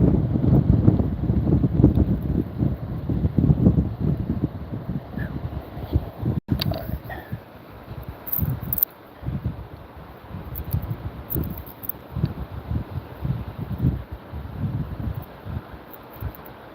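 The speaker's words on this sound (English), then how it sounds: "this wind is a challenge" Wind on the Penobscot River in Maine buffets the microphone while fishing from a boat, producing loud, gusty low rumbling that rises and falls throughout, with occasional brief knocks and no talk.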